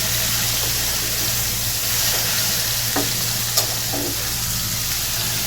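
Rui fish fries in a pan with a continuous, close sizzle, with a couple of faint clinks and stirring sounds in the middle of it.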